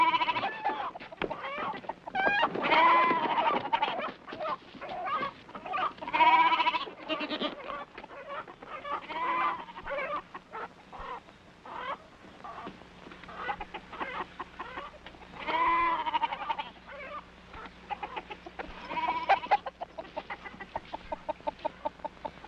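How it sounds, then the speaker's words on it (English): Agitated goats and chickens on a mountain farm, a continuous noisy chorus of bleating and clucking squawks, rising and falling in repeated bursts. "what set off those goats and chickens?"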